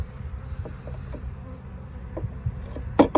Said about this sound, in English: Bunch of bees.